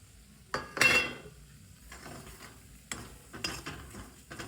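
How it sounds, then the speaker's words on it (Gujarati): Bhedku flour tipped into hot ghee in a pan and roasted, giving a bright scraping stir with a clatter of utensil on metal, then softer intermittent scraping and stirring, close and moderate, no voices. "ઘી કમ્પ્લીટલી ગરમ થઈ ગયું છે તેમાં આપણે ભેડકું એડ કરીશું"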